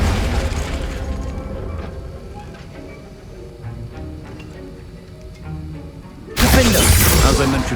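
A Confringo blasting spell explodes in the video game Hogwarts Legacy, a sudden loud burst near the end after quieter low rumbling and faint effects.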